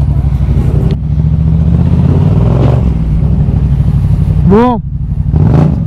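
A small Honda engine runs loud and close, rising into sharp revs and one high swooping rev near the end, with a short spoken word over it.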